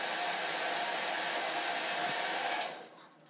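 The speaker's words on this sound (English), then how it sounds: "So I have a hairdryer which pulls about 2300 peak" A hairdryer rated around 2300 watts peak runs from a Bluetti AC180 portable power station, giving a loud, steady whooshing blow that cuts off and fades near the end.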